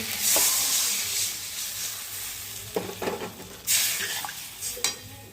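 Water goes into a pan of vegetables fried with salt, turmeric and spices, setting off a close hiss and sizzle broken by a few scraping stirs.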